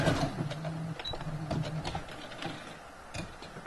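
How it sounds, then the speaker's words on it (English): A sewing machine zigzag-stitches both side seams of a fabric bag, its motor running in a steady mechanical whir broken into short, evenly repeated bursts, close and moderately loud with no talking. "we're going to take our zigzag stitch and stitch both sides of the bag"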